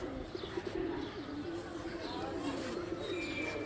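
Restless pigeons, newly caged and unsettled, coo softly and intermittently close by while a person talks over them.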